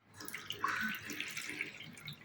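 Half a kilogram of sweet potatoes being washed in water inside a pressure cooker, a continuous close swishing and splashing with small drips.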